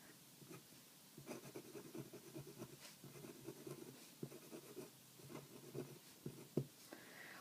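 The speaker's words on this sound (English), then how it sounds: "you heard a little noise when I was writing" A Lamy Safari fountain pen nib scratches across paper in a run of soft, close strokes, quiet and dry with small irregular bursts of scraping.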